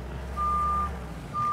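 A forklift in Farming Simulator 19 sounds its reversing alarm, giving two steady electronic beeps half a second apart over a low engine rumble.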